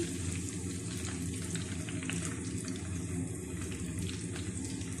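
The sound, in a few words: mutton chops frying in a pan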